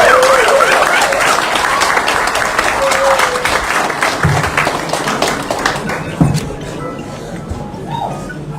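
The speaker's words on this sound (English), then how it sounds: "A round of applause for him." A round of applause from the audience at a police Inspector General handover ceremony, loud and sustained clapping from many people that slowly thins and fades, with a few faint voices underneath.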